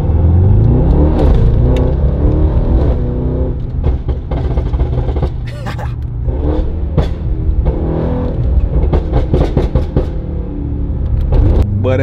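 A blacked-out Mercedes-AMG GT63s on a late-night drive, its engine loud and close, revving repeatedly in rising and falling bursts with crackling pops between pulls.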